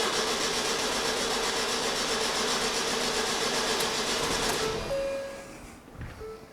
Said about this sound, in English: So I'm going to go and crank the engine